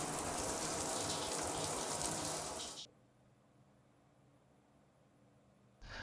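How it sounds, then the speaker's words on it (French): Running shower water during a rinse-off, a strong close gush for about three seconds that cuts off abruptly, a quiet pause, then the flow briefly returns at the end. "Puis, je me rince."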